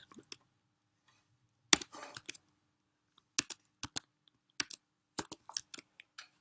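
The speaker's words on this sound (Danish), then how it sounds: "Det er jo altid lækkert at kunne bruge sit fine tastatur." Bursts of computer keyboard typing: clusters of sharp, close key clicks arriving in uneven runs with short pauses between them, moderately loud in an otherwise quiet room.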